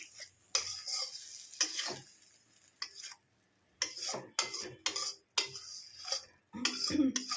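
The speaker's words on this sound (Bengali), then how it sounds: "আঁচটা কমিয়ে দেবো, এটাকে মিশিয়ে দিই।" Masala okra is stirred in a steel wok, with a series of separate scraping and clanking strokes coming in irregular bursts and short pauses between them.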